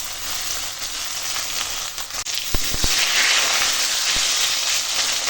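Taro and potato pieces hit hot oil tempered with five-spice and bay leaf, along with ginger-cumin paste, giving a steady loud sizzle with a few sharp clatters of a spoon partway through.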